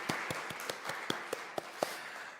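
Church congregation clapping during a Sunday worship service, a steady run of about nine sharp, evenly spaced claps heard fairly close and fading off at the end.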